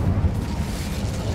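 Incendio fire spell cast in the video game Hogwarts Legacy, a low rumbling whoosh of flame with a steady booming roar lasting just over a second, loud and close with no talk.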